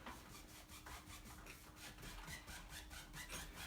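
Paint goes onto a drywall wall with a dry brush in a rhythmic series of soft scratchy bristle strokes, quiet and close, with no voices.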